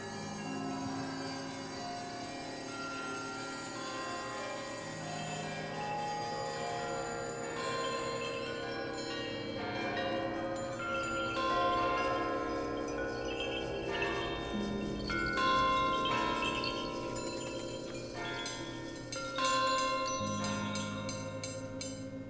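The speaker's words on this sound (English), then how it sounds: "all 59 bells ring together" Dozens of bells in a sound installation ring together at once, a dense, sustained wash of overlapping metallic tones and shimmering partials that swells and layers continuously without pause.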